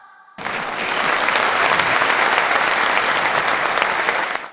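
A concert audience applauds a symphony orchestra, a dense and even clapping that bursts in suddenly after a moment of quiet and holds steady and loud for about four seconds before cutting off.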